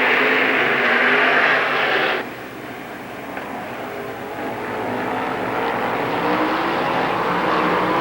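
Late model stock cars racing in a 1994 heat at Lernerville Speedway, engines roaring loudly, then briefly dropping away before building back up as the pack passes.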